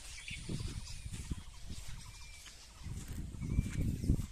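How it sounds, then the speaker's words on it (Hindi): Birds calling in the morning at a rural spot near a beach, a mix of gobbling fowl-like cries and chirps heard at moderate distance over steady outdoor background noise, with no talking. "सुबह सुबह पक्षी का आवाज़ सुनो"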